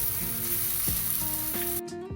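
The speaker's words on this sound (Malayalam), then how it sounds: "ഒന്ന് ഫ്രൈ ആയാൽ മതിയേ." Brinjal slices frying in a pan for a curry give a steady, loud close sizzle throughout, with a brief stir or clatter partway through and a sudden drop near the end.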